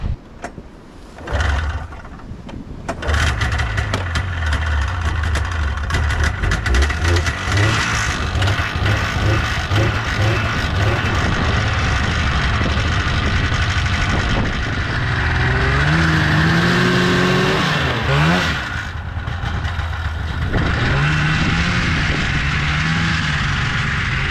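A 1954 Plymouth Savoy pulls away along a dirt trail, its engine loud and close, rumbling steadily with a few revs rising and falling as the car gets under way.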